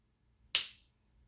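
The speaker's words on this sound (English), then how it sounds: "when I snap my fingers, tell me what letter you hear" A single sharp finger snap rings out in a quiet kindergarten classroom, with a crisp attack and a short decaying tail and no other sound around it.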